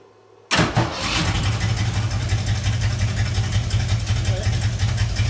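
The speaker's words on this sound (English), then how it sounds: "See if it'll start back up." A 1969 Ford Mustang Mach 1 engine cranks and catches after a brief quiet moment, then settles into a loud, steady, rumbling idle close by.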